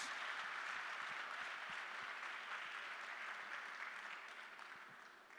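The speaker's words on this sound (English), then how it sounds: "Please give him a big round of applause." An audience applauds a speaker at an inspirational business event, dense steady clapping from a large crowd at a moderate distance that slowly tapers toward the end.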